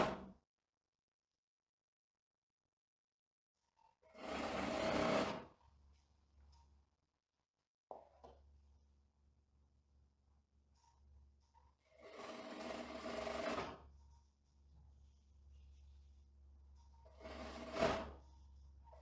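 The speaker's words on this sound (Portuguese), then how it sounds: "Vamos dar início à costura em 1 centímetro a margem." A sewing machine stitches a 1 cm seam along the side of a tailored women's trouser in bursts of rapid whirring, with quiet pauses between runs and no talking.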